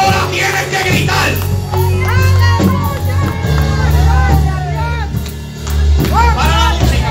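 A church congregation at an evangelistic service shouts and cheers together as a loud, sustained roar over continuous music, swelling and dipping across the clip.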